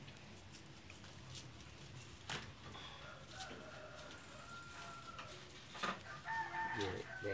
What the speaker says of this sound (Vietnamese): Gà thả lan vậy.